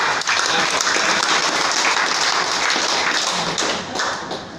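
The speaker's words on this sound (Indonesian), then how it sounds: "Ya tepuk tangan Bapak Ustaz." An audience gathered for a welcome and farewell event applauds an ustaz, with dense clapping filling the room steadily and then thinning slightly toward the end.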